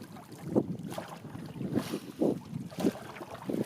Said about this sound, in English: pretty good wind here